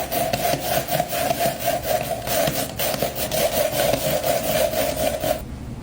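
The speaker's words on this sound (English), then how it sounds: "now we're gonna grate some cabbage" A kitchen gadget's grater blade shreds cabbage in a steady, loud rhythmic rasping, with repeated scraping strokes running continuously until it cuts off abruptly near the end.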